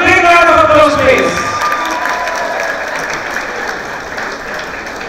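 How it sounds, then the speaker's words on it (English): A crowd at a graduation ceremony applauds loudly, sustained clapping with some cheering, while a voice speaks over the start and the clapping slowly thins. "Give a big round of applause, please."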